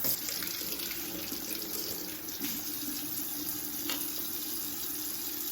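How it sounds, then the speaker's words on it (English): Hot water runs steadily from a tap into a sink, a constant splashing rush with no pauses. "So that's what I'm gonna use, some hot water."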